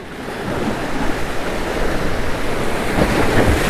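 Ocean waves surge and break against a rocky fishing jetty, a steady, loud roar of surf with wind noise buffeting the microphone throughout and no talking.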